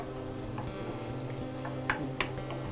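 Mushrooms fry in a generous amount of Cornish butter in a pan, giving a steady, low sizzle with a couple of brief sharper pops near the end and no one talking.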